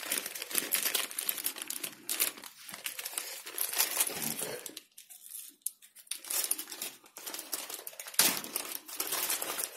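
A plastic bag holding a car reversing camera crinkles and rustles close up in bursts, with brief quiet pauses midway, while the camera is unpacked during a Teyes CC2L Plus install on a 2017 Renault Kaptur.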